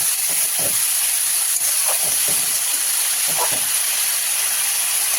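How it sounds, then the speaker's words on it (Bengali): Vegetables, chopped bottle gourd among them, tipped into hot oil in a home kitchen for a Bengali lau ghonto with mung dal, giving a steady loud hiss of frying with a few brief crackles and no talk. "তেল গরম হয়ে গেছে, এই তেলের মধ্যে এই সবজিগুলো দিয়ে দেবো।"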